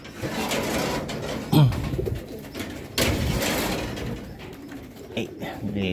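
Racing pigeons, cocks and hens, cooing in a loft around a fun race, with a brief low coo standing out over a busy rustling background of birds and movement.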